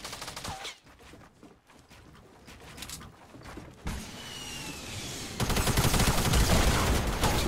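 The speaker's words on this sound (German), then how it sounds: "Ich seh ihn. Ich schieß." Rapid automatic gunfire from the Fortnite battle royale game rattles in dense bursts, growing louder and more sustained toward the end, with scattered in-game effects in between.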